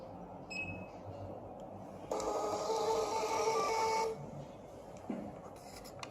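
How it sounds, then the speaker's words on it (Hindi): A Balaji BBP billing machine prints a bill in a steady mechanical whirr lasting about two seconds, close and moderately loud, after a few soft button clicks and with quiet background noise. "अब बिल निकालने के लिए मशीन पर दी गई इस प्रिंट बटन को दबाएं।"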